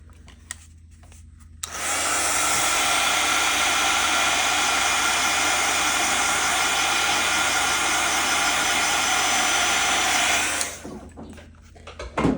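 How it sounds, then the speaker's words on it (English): A hair dryer switches on and blows with a loud, steady whoosh for about nine seconds, then cuts off. "I'm gonna take my dryer out and just dry this area a little bit."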